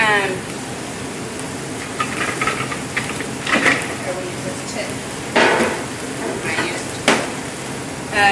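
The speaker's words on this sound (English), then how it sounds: "I'm also going to start sauteing my veg" Vegetables and rice sautéing in a pan give a steady close sizzle, with bursts of stirring and scraping at intervals throughout.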